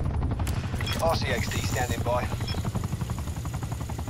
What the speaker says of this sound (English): Oh, dumb chopper.